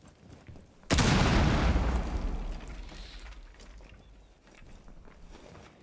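Gunfire in Rainbow Six Siege: a sudden loud burst of shots and booming impact erupts about a second in, then decays into a rumbling tail with faint scattered noise, no speech over it.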